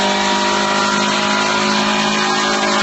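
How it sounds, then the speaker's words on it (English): Car doing a burnout with a continuous, loud, high-revving engine roar and harsh tire noise held flat throughout, close and saturated with no pauses. "I had permission to do a burnout."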